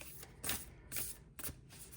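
A deck of playing cards is shuffled gently, making soft riffling bursts in a slow rhythm of about three or four passes, close and quiet.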